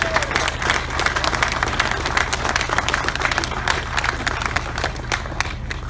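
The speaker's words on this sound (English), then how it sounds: "can I have a round of applause for these gentlemen, please?" A steady round of applause from a crowd at an Old Oak Common open day, dense continuous clapping at moderate distance with a low hum underneath, sustained evenly for several seconds.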